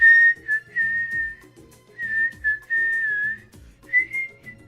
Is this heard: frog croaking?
no